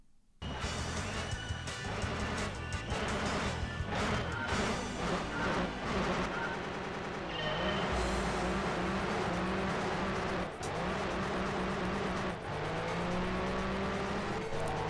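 TVR Speed 12 engine screaming at high speed in a video game, loud continuous high-revving roar with gear shifts and rising pitch, crash-like bangs along the way, no talk.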